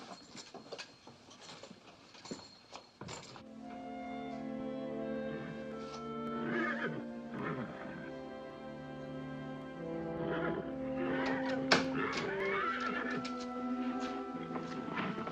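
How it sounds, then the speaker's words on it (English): Horses whinny and snort in bursts over a low background rumble, with shuffling movement between the calls. "Something's scaring the horses."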